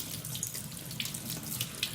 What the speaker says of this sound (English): give it a rinse until the suds is practically clear